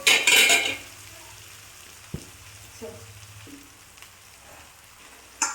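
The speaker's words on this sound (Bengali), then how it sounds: "হালকা নাড়ার পরে মাংসগুলোকে দিয়ে দেবো, দিয়ে আবার কষতে থাকবো।" Chicken pieces go into a pan of frying ginger and garlic with a burst of sizzling, followed by quieter sizzle, scattered clinks and scrapes of a utensil stirring.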